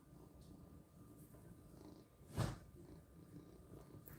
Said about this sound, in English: Oh, the purrs.